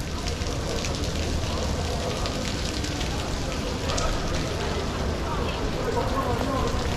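Steady rain hisses down across surfaces in Venice, Italy, in a dense, continuous patter, with voices talking faintly beneath it.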